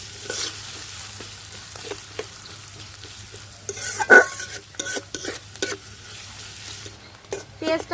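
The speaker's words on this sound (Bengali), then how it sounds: "তেল গরম হয়ে গেছে, পেঁয়াজ কুচি কাঁচামরিচ চেরা দিয়ে দেব" Chopped onion and slit green chilies sizzle and crackle in a little hot oil, with steady frying hiss and occasional stirring scrapes and clinks of a utensil against the pan, close and moderately loud.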